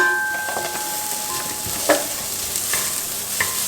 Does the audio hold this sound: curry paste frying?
yes